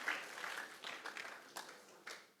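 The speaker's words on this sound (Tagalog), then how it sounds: "Malakas na palakpak para po sa ating Panginoon" A church congregation applauds in a scattered wave of clapping, loudest at the start and then thinning into a few separate bursts, fairly faint and heard from a distance.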